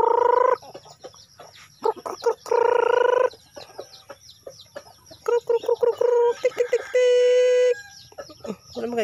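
Chickens and turkeys cluck and squawk repeatedly in bursts, with a rooster-like crow among them, close by and loud in a busy farmyard.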